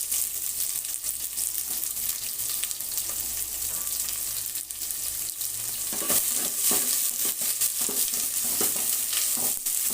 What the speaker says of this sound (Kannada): ನೋಡಿ, ಎಣ್ಣೆ ಹಾಕ್ತಾಯಿದ್ದೀನಿ ಮೊಟ್ಟೆ ಸಾಂಬಾರಿಗೆ